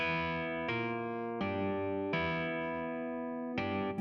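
Sustained Rhodes electric piano chords from a plugin, warm and bell-like, changing about every second with soft attacks and a steady, effected shimmer; no voices.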